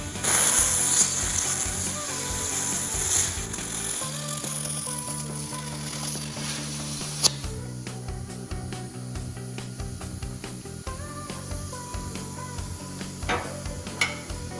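Vehicle chassis being cut with a cutting torch, its tip held against a rod used as a guide rail, giving a steady loud hiss and crackle with sharp pops, the metal seeming to weld itself shut again behind the cut.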